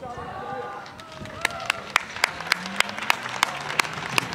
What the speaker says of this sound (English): when I clap here I feel like, yeah, it's too loud